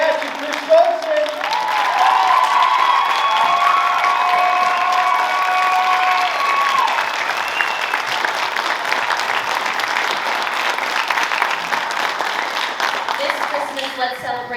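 A theatre audience at a Christmas show applauds its two hosts with sustained, dense clapping that runs the full length, with a few cheers and a brief voice early on.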